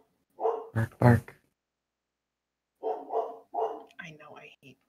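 Dog barking in Minecraft: a few quick barks up front, then a pause and more yappy bark-like bursts mixed with a voice that sounds like it could be a person imitating barking.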